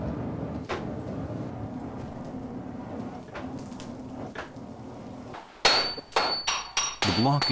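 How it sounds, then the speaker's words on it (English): A steel block being hammer-forged for a Japanese sword: after a quiet stretch with faint background sounds, a series of loud, sharp, ringing metal strikes lands in quick irregular succession near the end. "The block is stretched by hammering it to double its original length before folding."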